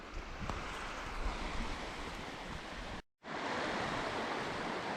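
Steady, broadband rushing of a river flowing beside a field in Scotland fills the clip. It is fairly faint and continuous, breaks off for a moment near the end, and no voices are heard.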